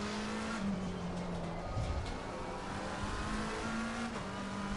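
A race car in the racing game Assetto Corsa Competizione at Indianapolis, a steady engine drone held at close range with small pitch shifts as it changes gear, heard without any talk.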